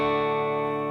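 An electric guitar played through its bridge pickup gives a distorted tone, holding one thick, buzzy chord for under a second.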